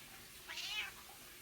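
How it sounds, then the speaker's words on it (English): A single cat meow rises and falls over about half a second, fairly soft against a quiet indoor background, with no one talking. "she was meowing constantly, more than any of her siblings"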